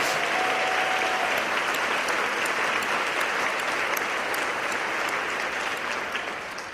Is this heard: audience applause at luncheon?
yes